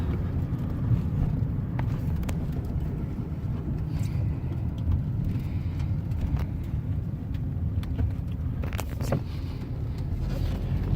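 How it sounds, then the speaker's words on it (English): A BMW E30 engine runs while driving, heard from inside the car as a steady, droning low rumble with a diesel-like tone, overlaid with road and wind noise and no talking. "This thing sounds like a diesel and it's driving me nuts."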